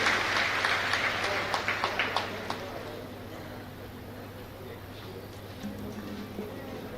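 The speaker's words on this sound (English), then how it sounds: "Big round of applause to them once again." A crowd at a valedictory ceremony claps in a burst of applause that fades out after a few seconds, leaving a low hum of the room.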